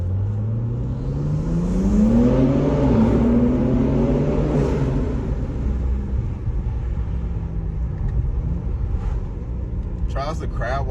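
BMW G80 M3 Competition accelerating inside a tunnel, a loud low engine drone that climbs steadily in pitch and echoes, heard from the cabin over road rumble, with a brief rattling click near the end.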